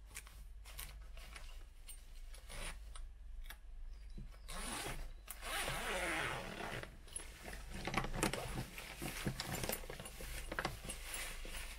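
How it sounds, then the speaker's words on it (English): Zippers on a cheap backpack are opened and closed repeatedly, giving close, loud rasping pulls of varying length with small clicks of the zipper pulls, heard alone without talk. "zippers."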